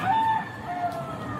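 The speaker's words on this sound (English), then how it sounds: "It's too early for the rooster." A rooster crows in the background of police body-camera footage, two short strained calls over a low ambient hum.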